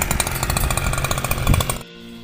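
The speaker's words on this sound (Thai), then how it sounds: "ผมก็จะใช้ ตัดแบบเลื่อยนะครับ เป็นเลื่อยยนต์ ขนาดเล็ก" A small gasoline chainsaw saws through cassava stem cuttings, its engine snarling loud and steady with a rhythmic pulsing before cutting off abruptly near the end.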